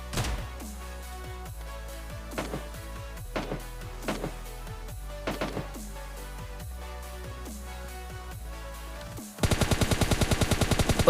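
Gunfire in the mobile shooter PUBG Mobile Lite, starting with scattered single sharp shotgun blasts among game effects, then a sudden dense burst of rapid automatic fire at the end.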